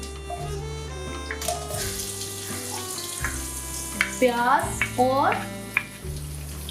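Onion and garlic sizzling in hot oil in a pot for lauki chana daal, a steady close fry with some stirring and a few brief watery bursts, with a word of speech.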